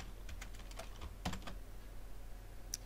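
Soft, irregular key taps on a computer keyboard while typing C code, faint clicks scattered across a quiet background with no talking.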